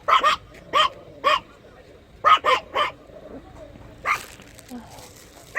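A dog barks in short sharp bursts, first three spaced barks then a quick pair and a few more, loud and near, with a person talking in between.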